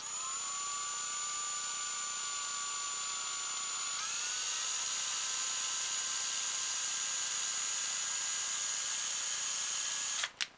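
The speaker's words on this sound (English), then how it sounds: "I'm just going to tap real nice and slow with my drill" A power drill runs slowly and steadily while tapping screw threads into a SnapBow foregrip, a continuous whine with a pitch shift about midway, ending in a brief sharp burst as it stops.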